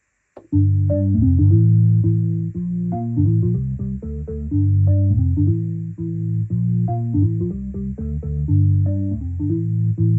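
M1 organ audio sample played from a Yamaha PSR-SX920 keyboard, a sustained, fairly loud melodic organ line with moving notes over held low tones, running continuously for about ten seconds with no voices.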